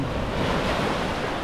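Steady roar of heavy ocean surf at Pompano Beach, Florida, waves crashing continuously with a breezy, wind-buffeted rush and no voices.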